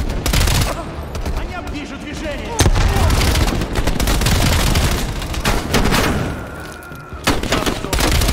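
Heavy gunfire rattles through a Call of Duty: Black Ops Cold War match in rapid loud bursts, with a booming grenade blast partway through and players talking over it.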